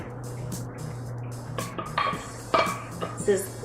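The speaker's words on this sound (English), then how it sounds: "We are going to sift the dry ingredients into this bowl." Dry ingredients being sifted through a handheld sieve into a bowl, heard as soft scraping and tapping with a few sharper metallic clinks, close and moderately loud over a low steady hum.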